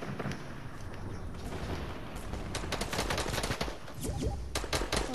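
Gunfire in Fortnite rattles continuously in dense, rapid bursts, loud and close, with sharp cracks layered over a steady roar of game noise.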